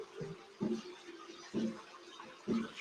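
Water is poured in stages into a stiff dough mixture for a medieval stuffed trout recipe, heard as four short, low sloshing bursts spaced about a second apart at moderate, close range.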